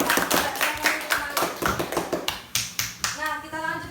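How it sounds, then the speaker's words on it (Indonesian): Schoolchildren clap their hands for a classmate in a classroom lesson, a loose run of sharp, uneven claps close by, with a few young voices breaking through toward the end. "beri tepuk tangan dulu"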